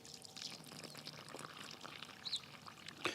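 Water pours steadily onto a planted raised potato bed in a garden, making a continuous trickling splash with small bubbling bursts. It is close and moderately loud, with no talk and a few faint bird calls behind it.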